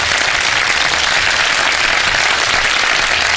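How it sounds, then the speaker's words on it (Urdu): A studio audience on a Pakistani TV quiz show breaks into dense, sustained applause, many hands clapping loudly and evenly throughout with no voices on top. "تالیاں بجا دیں"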